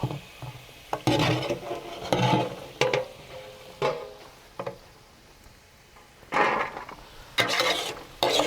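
Metal spoon scraping and scooping chicken and rice pieces out of a hot frying pan for Arabian chicken kabsa, in bursts of clatter and sizzle separated by short quieter pauses, with no talking.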